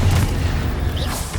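A Confringo spell explodes in Hogwarts Legacy: a loud, close, booming blast with a deep rumbling body that fills the whole short moment.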